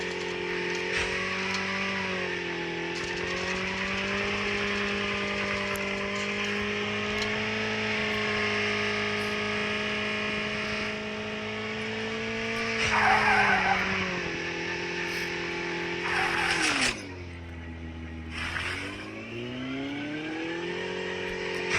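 A car in a video game drives with a steady, droning engine that rises and falls in pitch. Tires squeal and skid loudly partway through, then the engine dips and climbs again, alone without talk.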